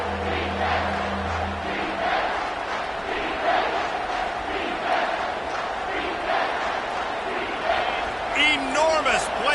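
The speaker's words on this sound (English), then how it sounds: "3rd down, and this crowd is bringing down the house." A football stadium crowd at an LSU vs Georgia game roars loudly on third down, a sustained, massive wall of cheering and yelling that fills the space, with a few whistle-like shrieks near the end.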